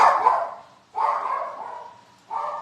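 A neighbor's dog barking three times from somewhere nearby, each bark drawn out and separated by brief pauses, moderately loud with no talk over it.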